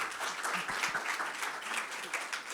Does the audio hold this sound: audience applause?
yes